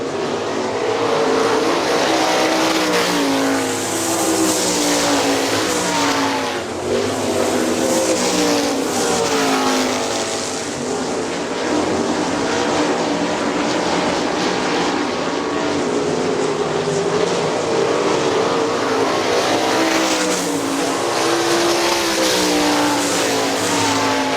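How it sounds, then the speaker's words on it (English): 410 sprint cars race at Hartford Speedway Park in Michigan, a loud, continuous roar of several engines at full throttle with pitch rising and falling as the pack circles the track, no voices. "Car number 19 trying to chase down Mike Daggett in the 88"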